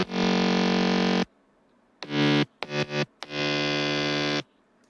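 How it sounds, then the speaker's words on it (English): Mid bass synth patch built in Ableton's Operator plays a buzzy, harmonically dense tone, first as a long sustained note, then a run of short choppy stabs, then another long held note, with silence between phrases and no voices. "Now this mid bass is made in Operator."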